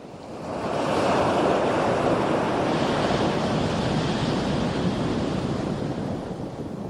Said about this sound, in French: Frappé par le travers par des vagues puissantes, ce bateau risque le naufrage.